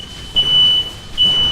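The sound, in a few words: smoke detector alarm going off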